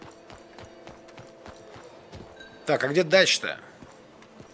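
Horse hooves clip-clop in Red Dead Redemption 2, steady light footfalls at moderate distance, briefly covered by someone speaking Russian over the game.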